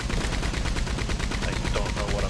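Mounted machine gun firing in the Red Dead Online video game, a loud, close, unbroken rapid burst of shots at a fast even rhythm with no pause.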